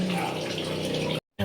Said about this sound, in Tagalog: Hindi tumatalsik smooth kasi yung tubig niya